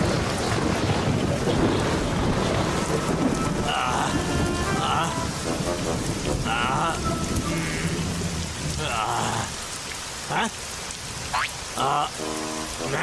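Steady heavy rain pours throughout a cartoon scene, with rumbles of thunder, while bright, tonal cartoon sound effects and music-like chimes cut in over the downpour toward the end.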